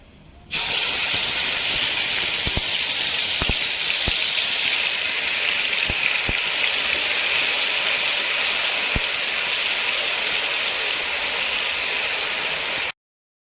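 Fried onion paste hits a hot pan and sizzles steadily, a loud continuous hiss with a few sharp utensil clicks scattered through, heard alone with no talking.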